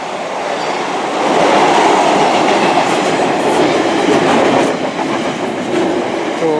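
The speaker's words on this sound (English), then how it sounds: "passing through now, we have another Class 66. It's an intermodal." A DB Cargo Class 66 diesel locomotive hauling an intermodal freight train passes close by, with loud rumbling and clattering wheels that swell mid-pass and carry on steadily.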